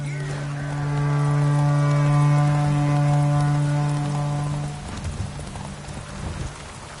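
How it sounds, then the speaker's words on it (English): A horse's hooves drum quickly through a race in The Witcher 3 video game, a rushing gallop blended with a loud, sustained low tonal drone from the game soundtrack that fades partway through, leaving busier background sound. "Faster, Beecher, faster! Got a ripe apple for you when we're through."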